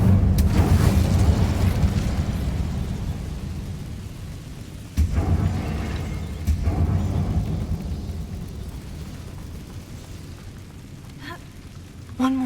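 Incendio fire spell cast in the Hogwarts Legacy video game, heard as a heavy rumbling burst with a couple of booming swells that fade out, loud and dense in the low end, with no talk.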